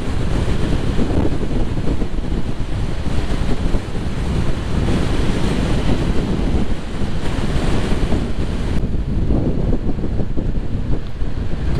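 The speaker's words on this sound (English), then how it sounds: "Proper windy." Strong wind roars and buffets the microphone continuously during a motorcycle ride, with heavy low rumble and no pauses, loud and close.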